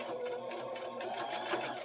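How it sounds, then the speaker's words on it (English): A sewing machine runs steadily on a zigzag stitch, sewing tape onto a simple craft project, its rapid needle rhythm close and continuous for about two seconds with no talking. "we're going to try to zigzag stitch it"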